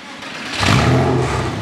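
A Porsche 986 Boxster S fitted with a performance exhaust and bypass valves fires up, a short whir of the starter giving way to a loud, deep catch and rising rumble, close and alone.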